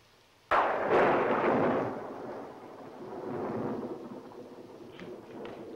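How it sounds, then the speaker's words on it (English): A sudden loud crack of thunder from a storm breaks out and rolls into a long, deep rumble that fades and swells again, with no voices, set in a 1972 film. "This storm is getting on my nerves."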